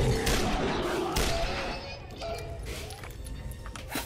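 Gunfire aimed at an attacking cyberdog in the sci-fi shooter Dead Effect 2: several sharp shots and crashing impacts over a dense game backdrop, thinning out into quieter rumble with faint voices mixed in.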